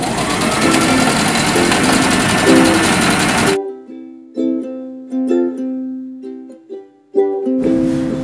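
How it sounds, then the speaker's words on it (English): Sewing machine stitching a seam on lacy kimono fabric, a loud steady whirring run that stops, then several shorter bursts of motor hum, close up with no talking. "you're just going to sew all along here"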